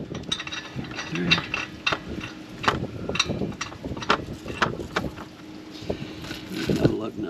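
Lug nuts being threaded and tightened on a 2013 Dodge Avenger wheel, ratcheting clicks and metallic rattles in uneven bursts close by, with someone talking over much of it.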